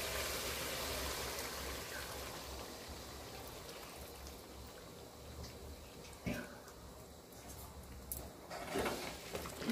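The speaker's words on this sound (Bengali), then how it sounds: "আমি এখন জল দিয়ে দিচ্ছি, দিয়ে দিচ্ছি গরম জল।" Hot water is poured onto meat that has been browned in spices, making a soft, faint gushing stream that tapers off, followed by a few light clunks.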